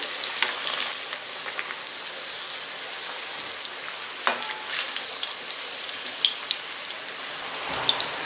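Scotch egg balls deep frying in hot oil, with a dense, steady bubbling crackle like rain, brief spikes as the balls are turned over, and no speech.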